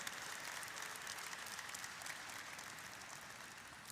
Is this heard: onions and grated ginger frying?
no